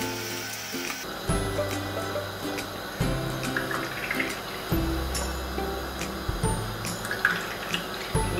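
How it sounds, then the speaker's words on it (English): Water pours into a container for a homemade lolly taste-test experiment, a steady close rush with several short interruptions and restarts along the way, heard alone without talk. "Now I'm going to have to bring this over and try and put the water in."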